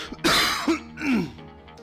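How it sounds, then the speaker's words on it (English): A man recovering from flu gives a harsh cough and then clears his throat twice in quick succession, close to the microphone, with no talking. "I still have some leftover coughing to do"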